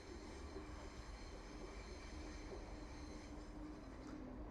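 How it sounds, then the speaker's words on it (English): An East Midlands Railway Class 175 diesel unit arriving at Derby station, a faint continuous rumble of wheels on track with light metallic squeal, steady throughout with no voices. "Arriving in now will be your 1449 East Midlands Railway service."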